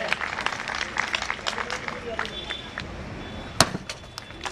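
Audience applause at a Ram Leela stage performance, a scattered crowd clapping at moderate distance with one sharp louder clap or crack standing out near the end.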